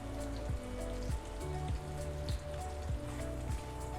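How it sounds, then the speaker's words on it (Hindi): A soft, steady crackling sizzle of roughly chopped onions frying in oil, with faint periodic scraping, no voices. "अब थोड़ा सा प्याज को फ्राई होने देते हैं।"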